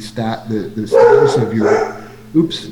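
A dog barks a few times in the background of a township board of supervisors meeting, its sharp yelps overlapping and mixing with someone speaking into the microphone.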